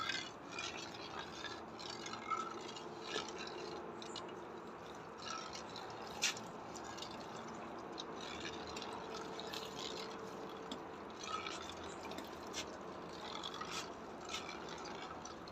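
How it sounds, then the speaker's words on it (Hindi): Ingredients are stirred into oil as they melt while a medicinal wound-healing oil is made, producing faint liquid swishing with occasional soft utensil clinks, quiet and continuous with no talking. "ये डालते जाएं और हिलाते जाएं।"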